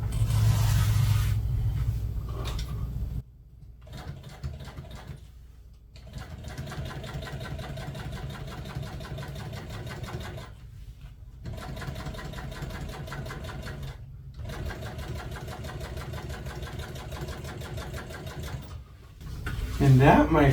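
A sewing machine top-stitching heavy upholstery fabric runs in a loud steady whir in several long bursts, broken by short pauses as the work is pivoted.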